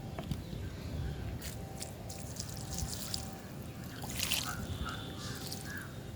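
Water is poured onto organic mulch, a soft continuous trickle and dribble that sounds faint and close, with small splashes and no talking.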